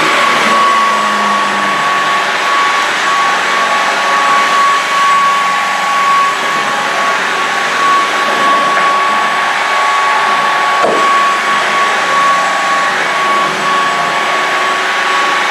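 A Shark Detect Pro cordless vacuum cleaner running in turbo mode gives a loud, steady high-pitched whine with a constant tonal hum, unbroken for the whole stretch apart from a brief dip near the end.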